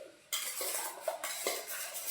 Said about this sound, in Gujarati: તમે આ સોપ બેસ જોઈ રહ્યા છો તેને આ રીતના ચાકુથી નાના નાના કટકા કરી